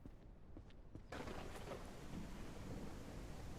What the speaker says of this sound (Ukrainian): поки я тут все руйнував, почався дощ, ви подивіться, наскільки тут класно зроблено